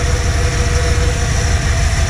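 A 1977 Dodge Power Wagon engine idles close by, a loud, even, low rumble that holds steady throughout with no revving.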